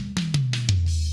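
Four quick drum tom hits descend in pitch, each a punchy attack over a booming low body that rings on. The attack is bright and forward from SSL-style EQ, and the hits are close and loud with no voices.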